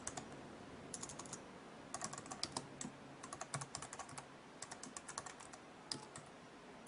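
Typing on a computer keyboard to enter a terminal command, a quiet run of close, quick key clicks in uneven bursts with short pauses, alone without talk.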